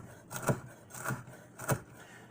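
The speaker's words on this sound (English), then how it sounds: "We're going to chop this nice and fine." A knife chops finely through fried bacon on a cutting board, three soft, evenly spaced thuds close by with no talking.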